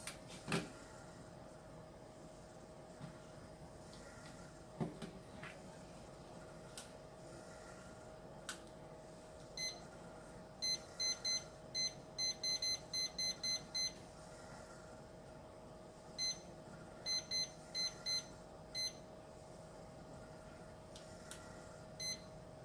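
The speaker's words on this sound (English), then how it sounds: "that's our timer going off" A timer goes off in a clinical pathology lab, repeated short electronic beeps in quick bursts that are faint and fairly distant over a steady mechanical hum and occasional clicks.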